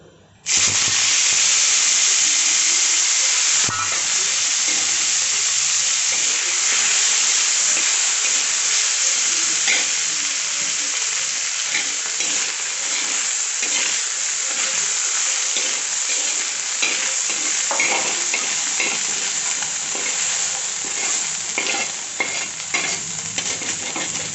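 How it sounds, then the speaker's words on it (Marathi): Washed Bombay duck (bombil) fish hitting hot oil on a heated tava, bursting into a loud, dense sizzle that stays steady and hissing for the whole stretch, with occasional spatters and stirring clatter up close. "हा जो बोंबील आपण धुवून घेतलेला आहे ना तो तेलात टाकून परतून घेऊयात"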